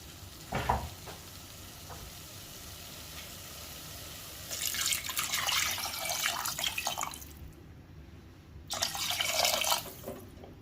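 Water, about three to four cups, pours into a pressure cooker for mutton bone soup in two rushing bursts, the second after a short pause, with faint kitchen background.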